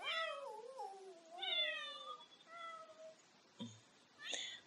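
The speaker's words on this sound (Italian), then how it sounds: "Mazza quanti gatti qua." Several cats meow in The Sims video game, with long drawn-out, wavering calls overlapping one another, followed by a short thump and a brief higher cry, moderately quiet and with no talk.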